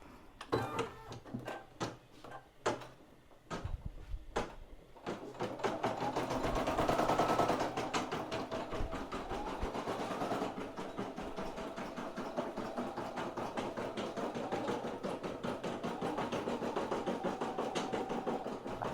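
An embroidery machine stitches out a dog bandana, its rapid needle chatter running steadily and close for the whole stretch, with a few sharp knocks and shifts in pace early on before settling into an even, continuous whir.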